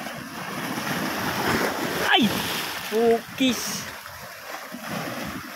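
Strong sea waves crash against a shore that floods nearby farmland, making a steady roar mixed with wind buffeting the microphone, while someone speaks briefly over it.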